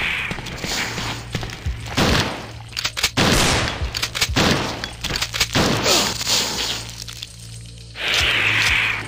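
Gunshots in Resident Evil 2, several loud close bangs and thuds in irregular bursts over a low steady hum.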